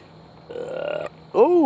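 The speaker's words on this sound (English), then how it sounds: "The pudding made me burp." A person lets out a short, loud, voiced burp after eating MRE pudding on the trail. A brief murmured vocal sound comes just before it.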